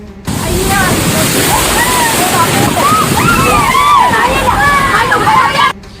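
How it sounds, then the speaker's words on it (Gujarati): Rough monsoon sea surging onto the Valsad shore, with loud, continuous sloshing and crashing water close by; excited voices and shrieks of people on the beach run through it. "જુઓ વલસાડનો દરિયો કેવો ગાંડો છે"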